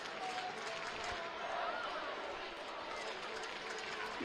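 Stadium crowd at a New Mexico United vs Memphis 901 FC soccer match applauds an injured player, Bruno Lapa, as steady distant clapping and crowd noise spread under a commentator's voice.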